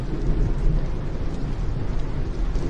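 Heavy rain pours down steadily with deep rumbling thunder, a dense, loud, continuous wash of sound with no voices.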